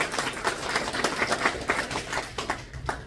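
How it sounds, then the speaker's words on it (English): An audience claps steadily for an event sponsor at a commercial real estate talk, a dense, even round of applause that holds for a few seconds before thinning out toward the end. "Another round of applause to the sponsor."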